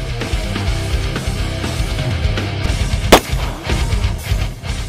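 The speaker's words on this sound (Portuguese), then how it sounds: "Um disparo e somente um disparo." Sharp gunshots ring out at an outdoor shooting range in Orlando, one loud crack standing out amid a busy background of lower thuds and rumble, with no talking.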